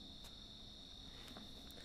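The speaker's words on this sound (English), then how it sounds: "I can hear the crickets chirping" Crickets chirp outdoors in a steady, continuous high trill, faint and distant, with a few brief louder pulses and no voices.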